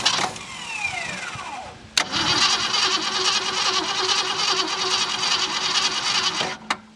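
A junkyard 1966 Ford Mustang V8 with a leaking accelerator pump diaphragm cranking, a sustained loud starter churn between sharp clunks at the start and end, fairly close.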